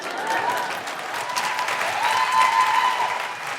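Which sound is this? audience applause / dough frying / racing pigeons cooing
audience applause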